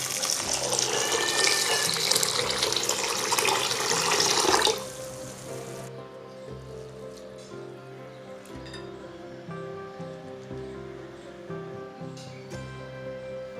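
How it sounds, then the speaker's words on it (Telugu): Water pours over a cup of sago pearls to rinse them, giving a loud, rushing splash for about five seconds before settling into quieter trickles and faint handling sounds. "1 కప్ సగ్గుబియ్యం తీసుకొని వాటర్ పోసి క్లీన్ చేసుకోవాలి"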